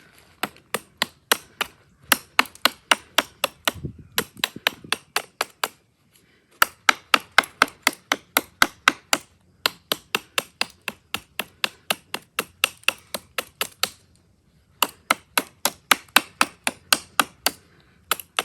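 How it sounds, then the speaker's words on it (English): A Ruike Jager F118-G folding knife hacks into a solid oak dowel with rapid, evenly spaced sharp chops in long bursts, each run broken by short pauses, loud and close with no talking. "We're just going to be hacking into this dowel until I get tired or I break through"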